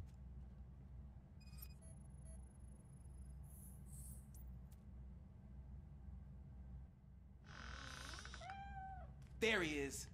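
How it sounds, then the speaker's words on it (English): A cat meows a few times in RoboCop: Rogue City, the cries rising near the end over a steady low game ambience, with someone speaking earlier. "The cat is fine."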